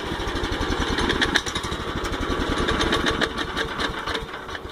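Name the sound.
cold go-kart engine running rough on half choke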